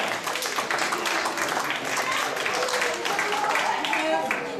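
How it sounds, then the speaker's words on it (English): Audience applause for a ten-year member at a fundraising concert held at World Vision headquarters in Monrovia, sustained dense clapping filling the room for several seconds. "Let's give him a applause"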